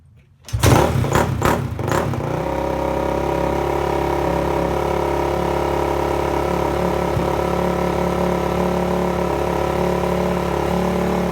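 A Honda CRF250R dirt bike with its choke on fires up after a few sharp cranking bursts, then settles into a loud, steady, buzzing idle up close, with no talking.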